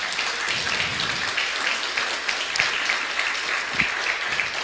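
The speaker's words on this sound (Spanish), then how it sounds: "Un aplauso al Señor." A church congregation applauds together, steady dense clapping sustained throughout at a moderate distance, with no speech over it.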